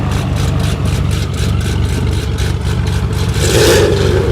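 A Beechcraft Bonanza F33A piston engine idles while the plane taxis past, a loud, near, lumpy low throb with a steady pulsing rhythm and a slight rise in the last second, with no talk.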